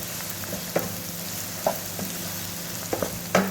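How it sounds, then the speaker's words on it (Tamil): Onions for a Sankara fish curry fry in a pan with a steady soft sizzle, punctuated by a few brief clinks and stirring knocks from a spoon; no one speaks. "வெங்காயம் வதங்கிடுச்சு."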